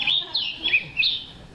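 Recorded bird call: a short series of clear, high chirps and whistled notes, repeated about four times, close and loud over a quiet background.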